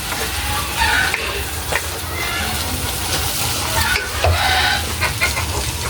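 Mung beans being stirred in a frying pan while cooking a sautéed monggo dish with malunggay, giving steady sizzling with scraping stir strokes and a few louder clatters, close and continuous.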